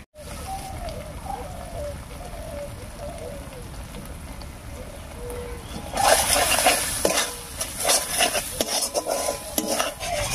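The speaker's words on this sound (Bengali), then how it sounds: "সব মশলাগুলো দিয়ে খুব ভালো করে মিশিয়ে নিয়েছি" A spoon stirs spices, turmeric and salt into bitter gourd in a pan, giving soft scraping and light sizzling at first, then louder clattering scrapes and knocks against the pan in the second half.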